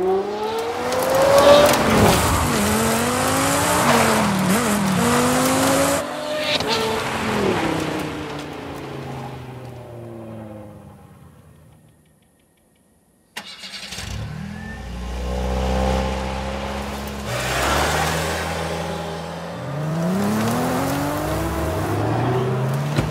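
Cars in Forza Horizon 5 accelerating hard with loud revving engines, rising gear-shift sweeps and tire squeals, running continuously apart from a brief near-silent gap in the middle before the racing resumes.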